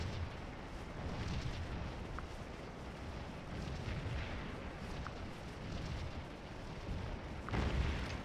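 Distant musket volleys and artillery booms from a Scourge of War: Antietam battle roll as a low, continuous rumble with scattered sharp reports, fairly faint and without talk.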